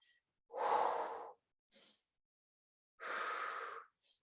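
Audible breaths during a sculpt-style yoga exercise: two long, close airy exhalations separated by short sharper intakes, with silence between each breath.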